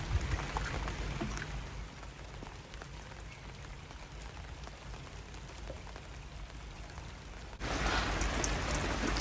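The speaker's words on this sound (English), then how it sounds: "It's 6:30 and we have rain." Light rain falls steadily on a sailing boat, a dense patter of drops across the deck and surfaces that swells noticeably heavier toward the end, with no voices.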